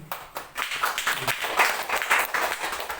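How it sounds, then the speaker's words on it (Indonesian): A church congregation claps during a sermon, uneven bursts of applause that start sparse, swell and roll on moderately loud for a few seconds, with no voices over it. "terima kasih atas tepuk tangan buat Tuhan"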